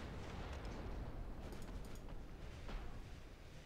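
A torpedo strike in the naval battleship game Ultimate Admiral: Dreadnoughts, a dense rumbling blast that roars continuously through the moment with a few sharper bursts layered on top.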